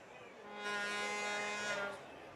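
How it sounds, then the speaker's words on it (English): An air horn blasts once at a high school football game, a single sustained, loud, reedy tone lasting over a second above faint crowd ambience. "Somebody's got a pretty good air horn here"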